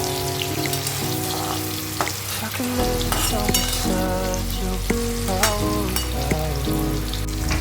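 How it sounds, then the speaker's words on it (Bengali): Ivy gourd (kundru) frying in oil, a loud, dense sizzle that carries on throughout, with utensil clinks and a stronger surge of frying partway through. "তারপরে দিয়েছি কুদরিগুলো ভাজতে"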